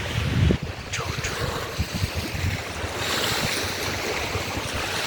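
Steady rush of surf with wind buffeting the microphone, a continuous low roar of waves close by with a few louder gusts.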